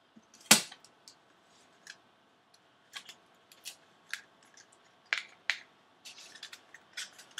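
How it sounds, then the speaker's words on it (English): Scissors snipping through paper while building a paper Uzi toy gun, a handful of sharp, separate cuts spread irregularly over several seconds, close and fairly quiet in an otherwise still room. "So I'm just going to go ahead and cut this bit off."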